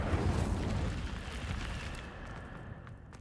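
Incendio fire spell cast in a wizarding game, a loud whooshing burst of flame with a deep rumble that gradually fades, followed by faint crackles.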